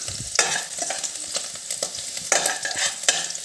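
Garlic fries in hot oil in a pan for fried rice, with close sizzling broken by a spoon stirring and scraping in quick irregular strokes.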